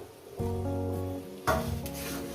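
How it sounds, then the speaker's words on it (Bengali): Spice paste and tomato sizzle in a hot pan for a chicken curry, a steady frying hiss with a stirring scrape partway through, close and moderately quiet with no talk. "প্রথমে এইটাকে আমি মশলাটাকে সুন্দর করে একটু কষি নেব"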